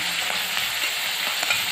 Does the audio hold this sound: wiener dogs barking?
no